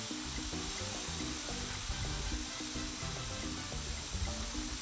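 Bacon sizzles steadily on a Blackstone 22-inch griddle, a constant close, dense hiss with faint pops and crackles throughout.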